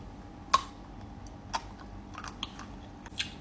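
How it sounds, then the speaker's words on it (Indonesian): Biting into a hard white-chocolate-coated cream cheese pastry, a few sharp crisp cracks spaced about a second apart, close up and fairly faint against a quiet background. "Gigit aja deh, soalnya ini kayak keras gitu loh."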